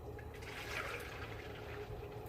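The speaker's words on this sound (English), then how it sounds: "I'm going to go ahead and pour this in" Thick ice cream mixture pours from a spouted container into a chilled freezer bowl, a soft continuous liquid gush heard close and fairly quiet with no talking.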